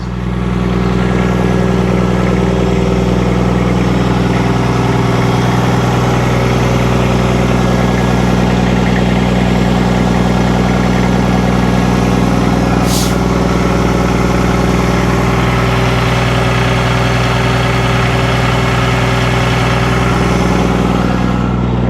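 A car engine idling through straight pipe exhaust, a loud, deep, steady rumble with a strong throbbing low tone that holds constant for the whole stretch, no talk.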